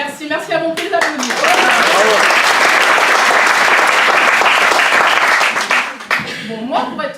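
A comedy show audience bursts into strong, close applause between bits of a French-speaking comedian's talk, holding steady for about five seconds before fading as he speaks again.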